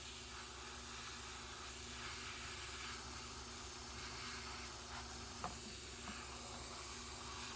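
An RC car body being spray painted, producing a steady, continuous aerosol hiss that runs unbroken at moderate, close volume, with no talk over it.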